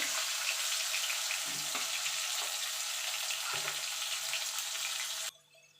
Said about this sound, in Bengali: আলুগুলো ভেজে তুলে নেবো